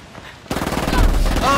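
Automatic gunfire in the Ghost Recon Wildlands Ghost War multiplayer mode bursts in after a brief quiet start and continues as a rapid, loud rattle.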